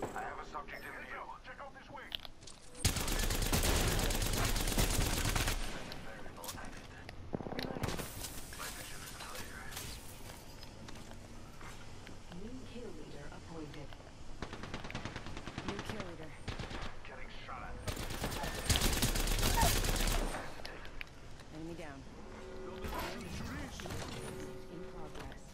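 Rapid automatic gunfire from the Apex Legends video game in several dense bursts, loud and close, with players talking and in-game radio chatter between and over the shots.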